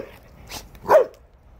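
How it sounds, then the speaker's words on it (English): A dog gives two short barks, the second louder and nearer, with quiet gaps around them and no talking. "Good no bark, Blue."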